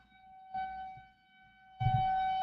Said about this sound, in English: they're not shutting that siren off either